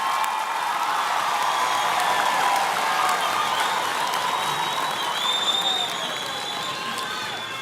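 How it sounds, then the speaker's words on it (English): A large graduation ceremony audience breaks into a sustained round of applause for the graduates, dense clapping with scattered whoops and cheers that fades slightly toward the end. "Let's give them a final round of applause for the graduates."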